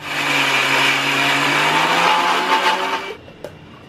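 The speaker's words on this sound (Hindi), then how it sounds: "दाल को हम मिक्सर जार में डाल के एकदम स्मूथ पेस्ट बनाएंगे।" A mixer grinder whirs loudly and continuously, crushing soaked lentils into paste, its motor pitch shifting slightly as it grinds, then cuts off, followed by a faint clatter.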